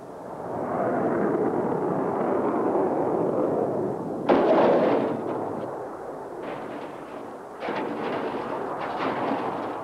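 Cluster bomblets dropped by a Tornado jet burst across a concrete runway, a continuous rumbling roar of overlapping blasts with sharper cracks breaking through midway and toward the end, loud and sustained.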